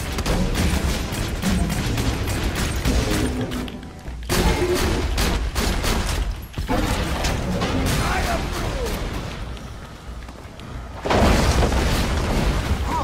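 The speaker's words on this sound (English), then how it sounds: "Oh, they explode when they die." Enemies blow up in the video game Borderlands 2 amid a dense, continuous barrage of booms and gunfire, loud and chaotic throughout with short dips, with no clear talk over it.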